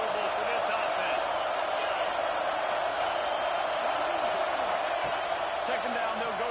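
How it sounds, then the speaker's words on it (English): A dense stadium crowd roars steadily at a Clemson vs Penn State football game, a loud continuous wash of noise with faint whistles and shouts, heard without clear talk. "This crowd trying to make life miserable for this offense."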